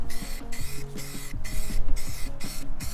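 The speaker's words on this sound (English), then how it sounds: "when you spray this background, do a light spray" Rhythmic bursts of hissing spray from a spray paint can painting address numbers on a curb pulse steadily, about five or six times, over a low mechanical hum, loud and close.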